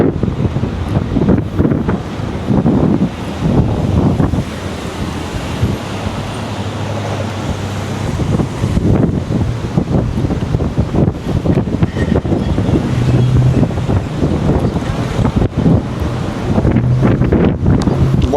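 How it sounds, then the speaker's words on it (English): Strong gusting wind buffets an unshielded microphone on a busy commuter street in downtown South River, New Jersey, producing continuous loud low rumble and flapping throughout. "Wow, very windy."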